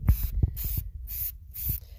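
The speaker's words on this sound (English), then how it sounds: "here it is all sprayed with the flat black primer" Short hissing bursts of a spray can applying flat black primer, several quick sprays in a row separated by brief pauses, close and fairly loud, with light handling knocks underneath.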